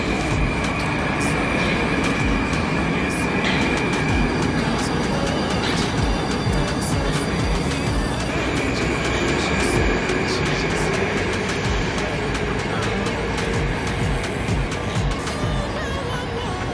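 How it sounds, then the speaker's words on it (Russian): Steady rumble of a Moskva-2024 metro train running in Moscow, with constant wheel and motor noise and faint high whine, continuous and fairly loud throughout. "самые современные поезда Москвы «Москва-2024»"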